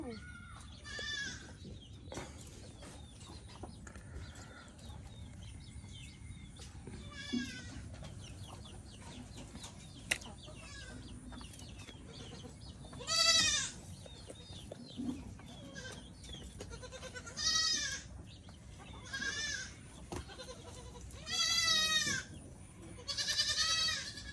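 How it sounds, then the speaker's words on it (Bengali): Young goat kids bleating repeatedly in a rural Bangladeshi village yard on a rainy monsoon day, short wavering cries coming in bursts from close by over steady background noise, with a voice talking at times. "এই যে দেখুন ছাগল বাচ্চা সব নানার কাছে যায় দুষ্টামি করতেছে"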